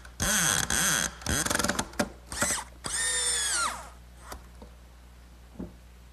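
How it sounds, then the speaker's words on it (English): A power drill drives a screw through a glued tenon into a wooden rocking horse, with several loud whirring bursts that rise and fall in pitch, then a few faint clicks as it stops. "a little glue on that tenon and a screw."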